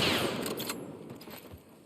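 A gunshot in The Last of Us on PS5 cracks loudly at the start, followed by a fading echo and a brief clatter.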